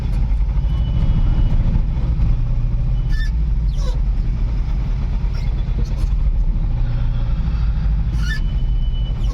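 Road traffic drones steadily with engine rumble from nearby vehicles, punctuated by several short horn honks, heard continuously from close range without talk.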